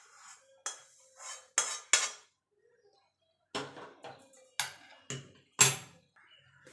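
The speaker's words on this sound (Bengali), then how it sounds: "এবার আমি একটা বাটিতে নামিয়ে দেবো" Fried spices are scraped from a pan into a bowl during home cooking, giving a series of sharp metallic clinks and scrapes of utensil on cookware, separated by short pauses, close and clear with no talk.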